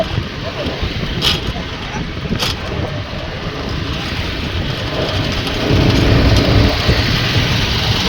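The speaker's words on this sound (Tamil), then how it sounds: "இப்போ வந்து மழை பெஞ்சிட்டு இருக்குது" Rain pours steadily outdoors during a walk in wet weather, a dense loud hiss that swells toward the end, with voices talking over it.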